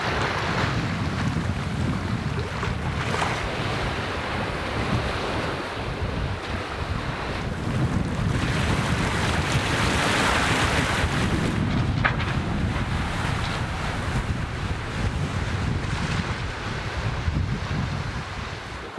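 Sailboat motoring under engine at night off Australia, a steady low drone blended with constant wind buffeting and rushing water around the hull.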